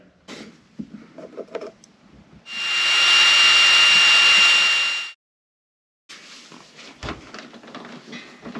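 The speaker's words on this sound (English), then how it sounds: "We just have to drill our holes in there." A power drill whirs loudly in one steady burst of about two and a half seconds, drilling holes to install a cargo cover in a Volvo 240 wagon, between quieter handling noises and a brief silence.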